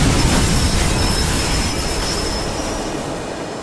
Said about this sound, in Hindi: ये क्या, हमारी ट्रेन का एक्सीडेंट हो गया दोस्तों।